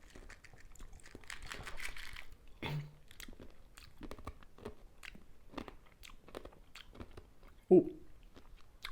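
Chewing crunchy raspberry-flavoured American candy, a few crisp bites scattered through a person talking, with one louder crunch near the end.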